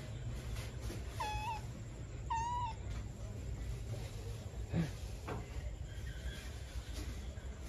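A cat begging for meat gives two clear, rising meows close by, followed by a few faint, shorter mews over a steady background hum.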